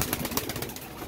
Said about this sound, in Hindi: ये कबूतर हैं माशाल्लाह